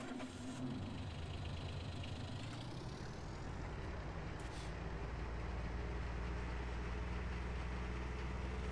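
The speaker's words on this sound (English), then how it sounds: "Let's jump into our gator to go buy some more cows." A Gator utility vehicle idles in Farming Simulator 19, a steady low engine drone with a faint rhythmic knock that holds evenly throughout after a short shift at the start.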